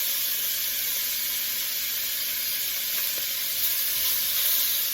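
Oxtail pieces for a Cuban-style stew searing in a hot pan, a dense, even, close hiss of fat with no pauses and no voices.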